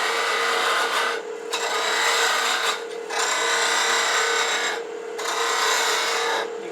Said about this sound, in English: Now I'm going to bring this down just a little bit with peeling cut.